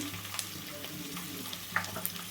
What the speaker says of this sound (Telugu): ఎల్లిపాయ ముక్కలు పచ్చిమిరపకాయలు ఇవన్నీ కూడా వేసుకొని మంచిగా వేపుకుందాము